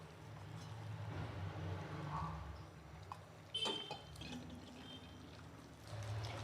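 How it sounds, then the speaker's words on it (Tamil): Water trickles and pours into a bonda batter being mixed, a soft continuous wet stream with a brief louder splash partway through, fairly quiet and with no talking. "கொஞ்சம் கொஞ்சமாக பிணைஞ்சிட்டு தண்ணி சேர்த்துக்கோங்க."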